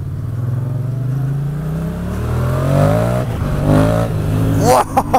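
A Yamaha MT-07 motorcycle engine revs smoothly while riding, a loud, close exhaust note that rises and falls through the revs, with a brief clatter near the end.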